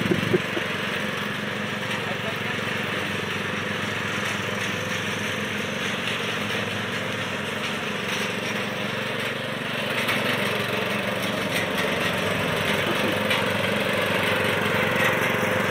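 A lawn mower engine drones steadily as the mower drives a lap around a marked-out circuit, a continuous mid-range hum that holds roughly constant throughout, with a slight swell in loudness toward the end.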